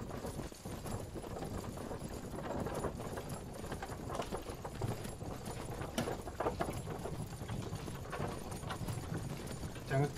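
Hooves clip-clop steadily from a horse in the game Myth of Empires, continuous and moderately close under a busy ambient background.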